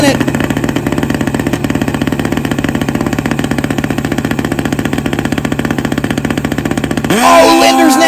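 Drag racing motorcycles, a 16-valve Suzuki GS1100E making about 108 factory horsepower alongside a Hayabusa, drone steadily at the line in a loud, even engine rumble for about seven seconds, then a sharp rise as they launch.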